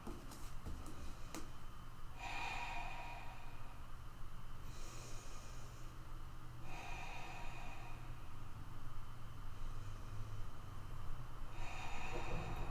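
Slow, deep breaths during a yoga half split pose, four soft hissing inhale-exhale swells spaced a few seconds apart over a steady low hum, quiet and close with no talking.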